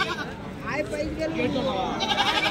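Goats bleat repeatedly amid a crowded Tuesday goat market in Kadiri, their calls overlapping with nearby talk and general market bustle.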